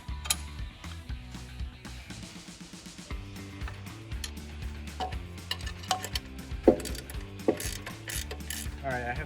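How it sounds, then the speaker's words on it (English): A ratchet clicks rapidly in bursts while loosening alternator bolts on a Fox body Ford Mustang, with metallic clinks of tools between runs, close and fairly loud with no talking. "Now you can remove the bolts from the alternator and remove it."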